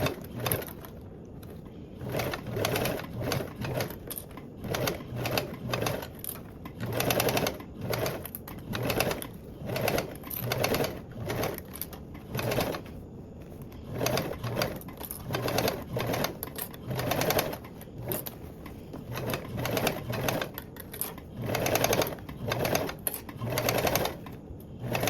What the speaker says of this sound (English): Down sewing with the 3/8 seam allowance